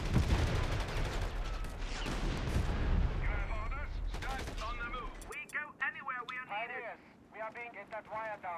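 Machine gun and artillery fire from the game Company of Heroes rattle in bursts at first, then give way to chirpy game sounds and voices talking.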